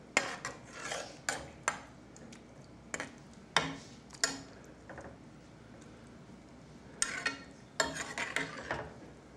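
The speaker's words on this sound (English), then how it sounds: "And I stir this into that." A spoon stirring a Worcestershire sauce mixture in a bowl, with irregular close clinks and scrapes of metal against the bowl in quick bursts separated by quieter pauses.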